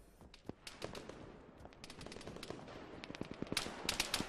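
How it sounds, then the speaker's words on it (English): Rapid gunfire in an Arma 3 military battle, a dense crackle of many overlapping shots near and far, some sharp close reports rising toward the end over a steady background rumble. "Yeah, they're shooting at me."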